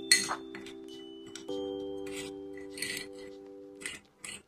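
A spoon scrapes and clinks around a bowl while sugar and cocoa powder are stirred together, with gritty rasping strokes, light taps and a steady faint hum underneath.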